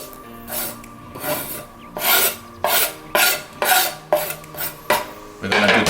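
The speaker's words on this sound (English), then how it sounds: "mix all of them with mortar and pestle" Chopped chilies and tomatoes for sambal tomat being worked in a mortar with a pestle, a run of rhythmic, gritty grinding strokes roughly every half second, close and fairly loud with no talking.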